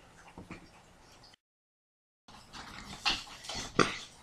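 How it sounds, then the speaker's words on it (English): A dog whimpers in short, thin whines, with a soft sharper yelp near the end, heard in the background after a brief silent gap. "That's my dog in the background."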